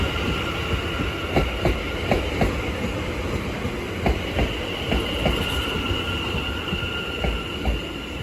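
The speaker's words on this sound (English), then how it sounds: "London Overground service from London Liverpool Street to Cheshire, being worked by a Class 710" A Class 710 London Overground electric train passes through Bethnal Green station with a steady, close rumble, rhythmic wheel clicks over rail joints and a faint high squeal, sustained throughout.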